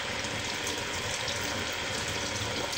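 Tap water runs steadily into a kitchen sink while hands are washed, a close, continuous broadband gush with no pauses and no voices.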